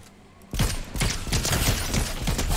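Gunfire in the Fortnite video game, a loud rapid burst of shots starting abruptly after a brief quiet moment and continuing densely to the end.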